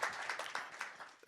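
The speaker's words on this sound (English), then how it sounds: "Let's applaud him for that response." Audience applause after remarks at a health equity conversation with Bill de Blasio, a short, fairly faint patter of clapping from a modest crowd that fades over about a second.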